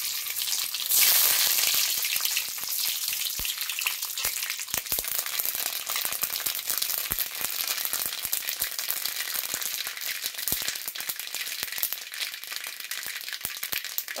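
Mustard seeds fry in hot coconut oil with a dense, steady crackle and rapid popping, close and loud throughout, with no talk over it.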